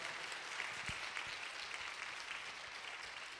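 An audience at a church lecture applauds to thank the speaker, a soft, steady patter of many hands clapping in a large room with a few sharper claps standing out.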